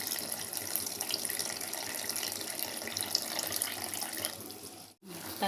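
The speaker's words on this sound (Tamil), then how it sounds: "இந்த ஸ்டேஜில் கொஞ்சமாக புளி ஊற்றிக்கலாம்." Tamarind water pours in a steady splashing stream into a simmering fried fish curry, poricha meen kuzhambu, continuous for several seconds before a brief cut and a faint clatter.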